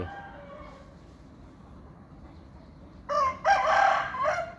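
A trained Thai fighting cock, weighing about 2.6 to 2.7 kilograms, crows once loudly and close by. The crow comes near the end, after a quiet stretch with faint background noise.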